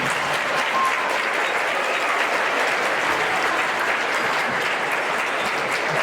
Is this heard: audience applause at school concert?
yes